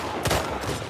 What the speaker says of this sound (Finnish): Ketä mä ammun täällä?